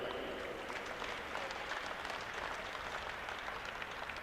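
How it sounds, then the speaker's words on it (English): Crowd applause for the referee and assistant referees at a Dunedin club rugby colts final, a steady, fairly faint wash of clapping that holds evenly throughout with no clear voices over it. "Please give them a round of applause, thank you."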